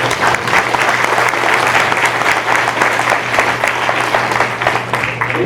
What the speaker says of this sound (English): give Ron's Barn a round of applause